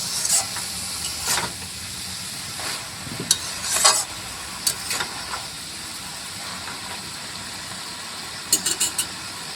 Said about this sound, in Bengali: সবজির সঙ্গে টমেটোটাকে মিশিয়ে নেব